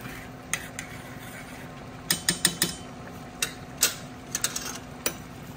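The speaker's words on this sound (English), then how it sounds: "Let me just stir this a little bit." Potatoes and cabbage in tomato sauce stirred in a pot for a Southern dish, a spoon knocking and scraping against the pot in scattered clinks, some in quick bursts, over a quiet room hum.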